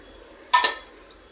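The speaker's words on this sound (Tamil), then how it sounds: "இதை கிண்டி விட்டுட்டு நல்லா கிண்டுங்க" A spoon stirs badam pisin payasam in a metal pot, making a quick pair of bright metallic clinks against the pot that ring briefly in a quiet room.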